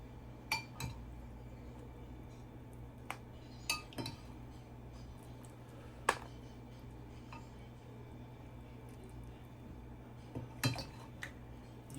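Seafood boil sauce being stirred in a container, a handful of faint scattered clinks and taps of a utensil against the side over a quiet background hum.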